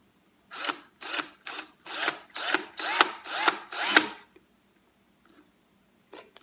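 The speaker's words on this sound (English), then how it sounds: "Now I'm gonna reverse the drill so I can come out." A power drill whirs in eight short, rhythmic bursts as it bites into the wooden body of a ukulele to fit a strap button, then falls quiet apart from a couple of faint clicks.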